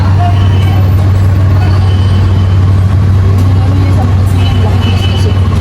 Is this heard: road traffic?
yes